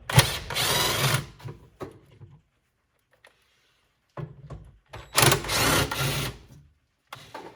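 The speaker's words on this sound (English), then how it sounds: "with our 7mm socket, let's go ahead and take off the 2 bolts that are holding this on" A 7mm socket tool whirs in short powered bursts to back out two bolts holding a panel on a Chevy Trax or Buick Encore, two loud buzzing runs separated by a silent pause.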